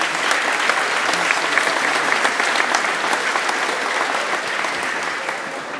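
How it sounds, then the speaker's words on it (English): A graduation crowd in a hall claps loudly and continuously for a named graduate, a dense, even wash of applause held for several seconds. "Everybody give Ray a round of applause, please."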